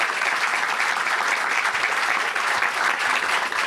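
Steady, dense applause from a tech-conference audience at the close of a panel discussion, loud and sustained without a break, with no voices standing out.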